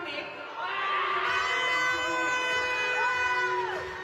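Spectators at a para swimming final in Thailand calling out and cheering in a large indoor pool venue, a sustained crowd roar with rising and falling tones and an announcer speaking over it.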